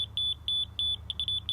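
A laser grade receiver emitting repeated high, piercing beeps in an uneven rhythm, some long and some short, loud and close with no voices.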